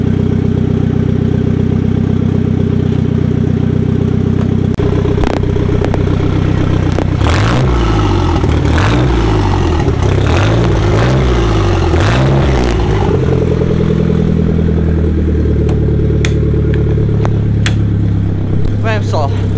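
Car engine running during a test of a Universal Turbo GT2871 with the engine warm, a steady loud mid-pitched drone with some revving swells throughout, while someone talks over it.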